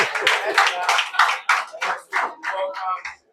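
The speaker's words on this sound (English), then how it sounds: "let's clap for us" Audience clapping at a World Book and Copyright Day school gathering, a burst of scattered hand claps at close range, broken into uneven clusters with voices mixed in, fading out at the end.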